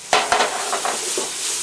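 Onions and canned tomato paste fry in a pot as a spoon stirs, producing a close, bright sizzle with a few quick scraping strokes at the start that settle into an even hiss.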